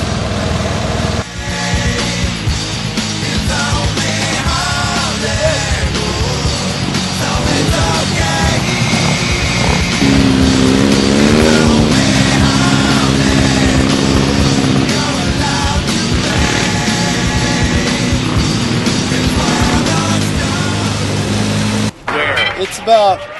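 A Polaris RZR side-by-side driven at night around a go-kart track at Teton Spectrum Raceway, its engine droning loudly and steadily with revving changes throughout, close and continuous, with voices shouting occasionally over it.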